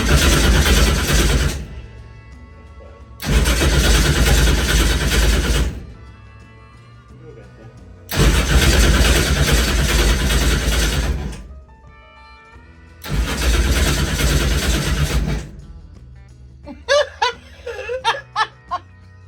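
A no-prep drag car's engine cranks in four loud bursts of a few seconds each, separated by short pauses. Laughter and chatter follow at the end.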